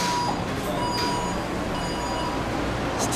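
A Taipei Metro train pulling into Xiaobitan station, a continuous loud rail rumble and hiss with a faint steady tone and brief clanks, heard from on board without voices.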